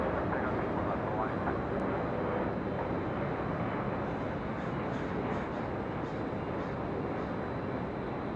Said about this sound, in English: Hawaiian Airlines Flight 63 on this A321neo.